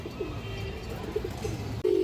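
A female pigeon among coloured pigeons coos briefly a few times, soft low calls over steady background noise, ending in a louder burst.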